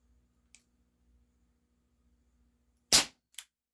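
A Cybergun Baby Eagle airsoft pistol loaded with Smart Shot BBs fires one loud, sharp crack, followed shortly by a smaller snap and faint clicks in an otherwise quiet room.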